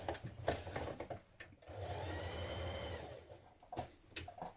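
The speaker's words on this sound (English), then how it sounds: "Now we're going to baste our lining to our main fabric around the armholes" A domestic sewing machine bastes a lining to the main fabric of a frill dress around the armholes, with short stop-start bursts of stitching around a steadier run of a second or so in the middle.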